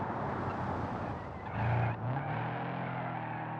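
Race car fitted with a full roll cage and racing seats, driving past with a steady engine drone and a brief louder surge of tyre noise midway, no voices.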